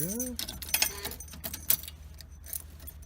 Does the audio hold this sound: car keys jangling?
yes